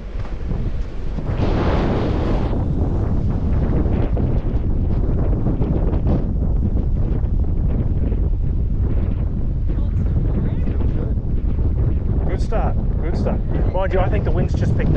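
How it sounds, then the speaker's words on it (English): Strong wind buffets a microphone outdoors during wing skateboarding, a constant loud low rumble that covers the whole stretch. People talk underneath it. "Mind you, I think the wind's just picked up."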